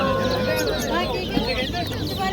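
Chickens and roosters at a busy poultry bazaar in Mingbuloq, many birds clucking and squawking together in a dense, loud chorus with people talking among them.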